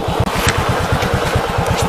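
A motorcycle engine throbs loud and close with a steady, rapid pulsing rhythm while the bike is being parked near the Subrahmanya temple for a wedding.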